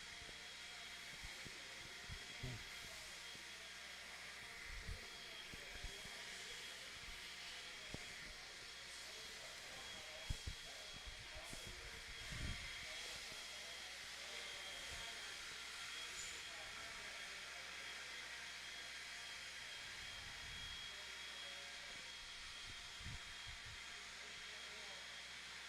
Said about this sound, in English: Do not hit the track blower.